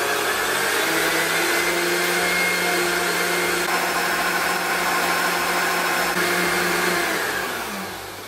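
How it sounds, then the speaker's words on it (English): An electric whisk whisks egg yolk and caster sugar toward ribbon stage, a steady, loud motor whine that runs unbroken for several seconds before easing slightly at the end. "And then we're going to whisk this until ribbon stage."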